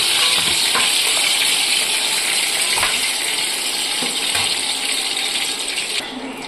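Chicken pieces fry in hot oil with a loud, steady sizzle close by, broken by a few clinks and stirring knocks, fading slightly near the end, with no voices.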